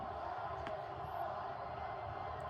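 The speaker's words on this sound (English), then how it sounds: "Listen to the crowd." Dense arena crowd noise from the WrestleMania 15 audience in 1999, a steady roaring wall of cheering and shouting that holds throughout while The Rock chokes Stone Cold at ringside.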